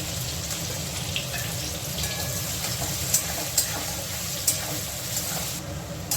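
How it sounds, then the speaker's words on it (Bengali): Two medium onions fry in hot oil with cumin seeds for a fish curry, giving a steady close sizzle with a few soft pops and stirring clicks. "এখন এখানে আমি দিয়ে দিচ্ছি মাঝারি আকারে 2টো পেঁয়াজ ফোড়নে, এই তেলেই দিয়ে দিচ্ছি।"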